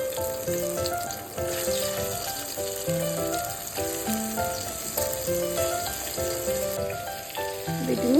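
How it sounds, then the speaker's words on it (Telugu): Stuffed bottle gourd pieces fry in oil with curry leaves, a continuous crackling sizzle that plays under melodic background music for the whole stretch. "వీటిని ఆయిల్లో మంచిగా ఫ్రై చేసుకోవాలండి."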